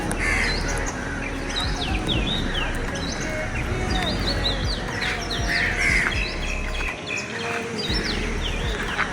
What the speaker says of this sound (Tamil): பேக்ரவுண்ட் மியூசிக் சொன்னால் அந்த பறவைகள சத்தம், அதை தான் சொன்னேன் பேக்ரவுண்ட் மியூசிக்ன்ட்டு.